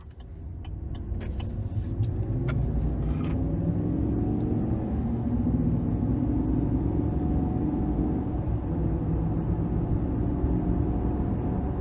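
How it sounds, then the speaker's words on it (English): A 2023 Chevrolet Silverado 1500 Custom Trail Boss with a 5.3 liter engine, 2-inch lift and off-road tires drives on the road, heard from inside as a steady low rumble of engine and tire noise that builds at the start and then holds. "take this 2023 Silverado 1500 Custom Trail Boss out on the road for a quick test drive"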